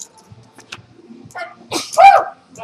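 A single sneeze bursts out near the end amid low murmurs at a casino gaming table in Stoke, with quieter voices and background noise before it.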